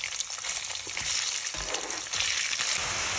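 Sausage pieces frying with garlic and chili in a pan, a continuous crackling sizzle with small pops and a few stirring scrapes, steady and close, no talk.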